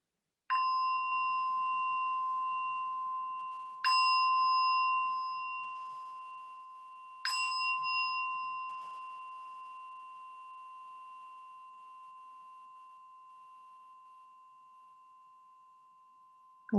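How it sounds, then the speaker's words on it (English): A meditation bell is struck three times, each clear ring sustaining and slowly fading, the later strikes overlapping the lingering tone in a quiet setting. "attending to the sound of the bell as we begin."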